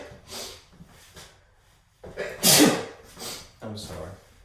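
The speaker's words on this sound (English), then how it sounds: "So I have to sneeze, forgive me." A single sharp, loud sneeze with a quick intake of breath beforehand and a few soft breaths and snorts around it, close to the microphone.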